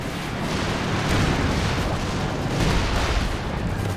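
Stuka rocket artillery barrage in Company of Heroes 2, a dense, continuous roar of overlapping explosions and booms rumbling steadily and loudly throughout, with no talk.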